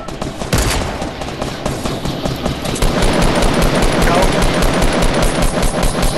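Rapid automatic gunfire from a multiplayer shooter game rattles almost nonstop in loud bursts that grow denser and more sustained, with voices faintly underneath.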